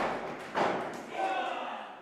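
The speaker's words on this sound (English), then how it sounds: "Forearm shot there from the one-man dynasty" A single heavy thud of a wrestler's forearm strike landing at a Smash Wrestling event in Kitchener, with commentary and crowd noise running underneath.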